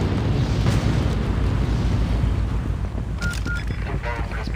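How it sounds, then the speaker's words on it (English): A flashbang grenade goes off in the Critical Strike shooter game during a 6v6 match, a loud sustained boom and rumble filling the mix, with brief electronic tones and clatter near the end. "Flashbang!"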